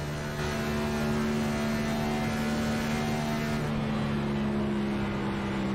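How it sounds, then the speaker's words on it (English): A race car engine drones loudly and steadily with a sustained whine at an oval race, its pitch shifting slightly as the throttle is blipped near the end. "Hear him blipping that throttle a bit as he came through the apex of that corner in 4."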